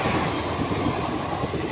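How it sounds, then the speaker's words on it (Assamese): A train rolls past close by, a dense, steady rumble of wheels on rails that stays loud and unbroken. No one speaks. "সেয়া ৰেল আহি আছে"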